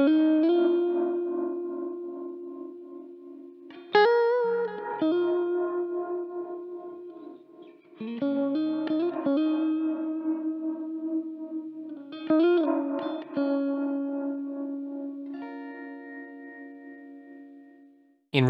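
A sustained guitar tone pulses with a rhythmic tremolo from an optical-sensor reverb pedal, each phrase swelling and fading in steady waves, washed in reverb and ending with a brief click.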